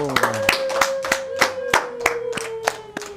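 A small group claps in rhythm for the children who gave gifts at a one-year-old's birthday party, steady sharp hand claps about three per second, close and lively, with a tonal background hum running beneath.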